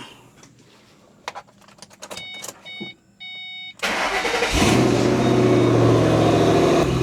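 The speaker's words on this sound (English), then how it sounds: "we're going to go ahead and start this up. Let it warm up." Ford Mustang from the 2005–2010 range starting up: a few soft clicks and chimes, then the engine cranks, catches and settles into a loud, steady idle to warm up, with no one speaking.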